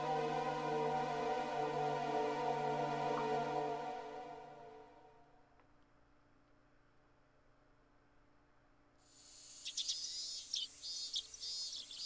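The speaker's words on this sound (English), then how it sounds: "I opened the windows, but all they let in was heat and the cries of the cicadas." Cicadas in the Higurashi video game drone in a steady, buzzing chorus that fades away midway, followed by quiet, then a bright shrill insect trill rising near the end.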